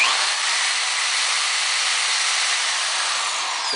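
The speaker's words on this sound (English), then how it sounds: "And here's my drill that's plugged into it." An electric drill plugged into a solar inverter setup runs continuously, a steady high, hissy whir that stays loud and even throughout with no talking.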